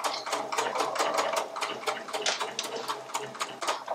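A sewing machine stitches a cork fabric frame bag, its needle ticking in a quick, even mechanical rhythm, close and moderately quiet, running continuously.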